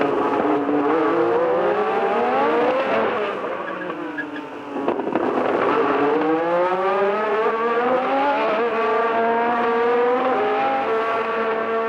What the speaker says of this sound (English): The two Renaults have the circuit to themselves here